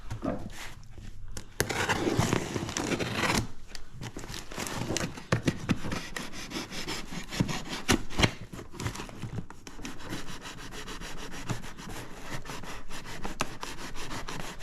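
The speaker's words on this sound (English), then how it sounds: "I'm just literally sawing through the actual box" Steady scraping and rasping of a blade sawing through a cardboard box, continuous for most of the stretch with a few sharper crackles, close up.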